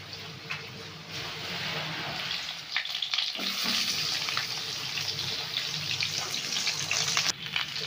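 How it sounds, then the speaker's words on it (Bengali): Potato and papaya pieces frying in oil in a pan, a continuous loud sizzle and crackle throughout with brief stirring bumps, no talking. "এবার আমি আলু আর পেঁপেটা ভেজে নেব, লাল লাল করে ভেজে নেব।"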